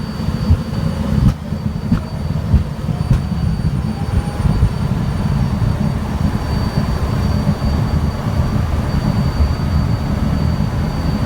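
HondaJet business jet engines running up: a steady, loud, broadband roar with a faint high whine that holds evenly for about eleven seconds, with no voices.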